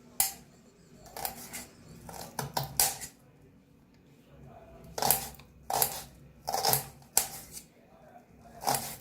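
Spring onion greens are finely chopped with a knife on a board for vangyache bharit, in quick bursts of crisp, close cuts separated by short pauses, with faint talk in the background.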